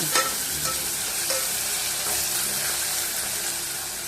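Onion and tomato masala sautés in a pan with a steady close sizzle and the occasional scrape of a stirring spoon, and no voices.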